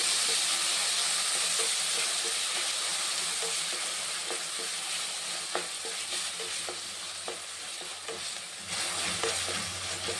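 Tomatoes fry in a pan with ginger for tomato bele bath, giving a constant soft sizzle with a light hiss of steam and scattered clicks of a stirring spoon, fairly quiet and without voices.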